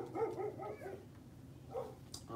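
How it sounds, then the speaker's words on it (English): A dog barks four times in quick succession, then once more after a short pause, fairly distant and moderately loud. "they're barking at the kids next door"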